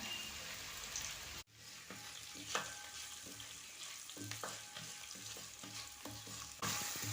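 Shallots with a little salt sauté in a pan, giving a steady close sizzle broken by a brief drop and then light scraping stirs and soft clinks, with no talking.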